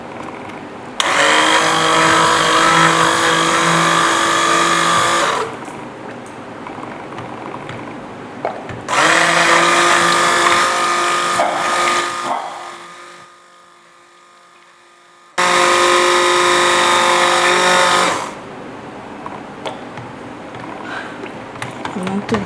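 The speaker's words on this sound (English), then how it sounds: "I'm gonna use a stick blender to blend this nicely" A stick blender whirs loudly and close through turmeric cold process soap batter in three long bursts of several seconds each, separated by short quiet pauses.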